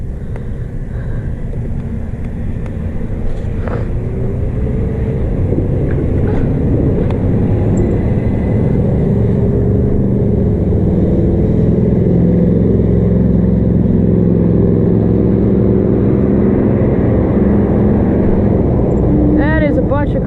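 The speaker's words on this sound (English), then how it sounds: "That is a bunch of cars." Cars drive past on a road beside an e-bike rider, a continuous loud engine rumble and tire roar that swells as vehicles go by, with a voice audible at moments.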